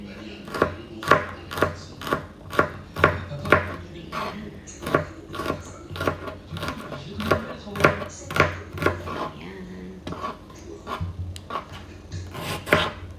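Garlic being chopped on a board in a home kitchen, a run of sharp, evenly spaced knife strikes close by, pausing briefly midway before resuming, with faint background sound.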